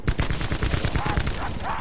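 Rapid automatic gunfire from a weapon in Black Ops 4 Zombies, a loud, dense burst of repeated shots running through the whole moment with no pause.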